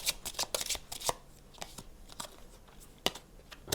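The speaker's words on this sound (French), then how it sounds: "je vais tirer une dernière carte" A tarot card drawn from a deck during a reading: a few quick, crisp papery flicks and slides of cards close by, with softer rustles between them, no voices.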